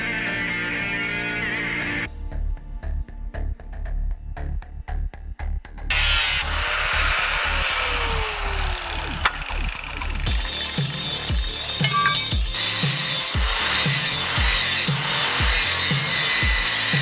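Power tool grinding rust from a Mazda RX-7 frame, a steady abrasive whine broken by choppy bursts and pauses, close and loud with metallic scraping throughout.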